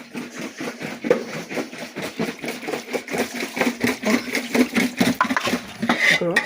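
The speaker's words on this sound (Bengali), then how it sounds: "এই বাসনগুলো ভিজিয়ে দিয়ে আসি বুঝেছ বাসনগুলো মাজবো" Dishes and pots clatter while being washed in a home kitchen, with a steady run of close metallic knocks and scrapes under a person talking.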